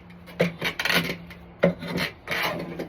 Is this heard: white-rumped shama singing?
no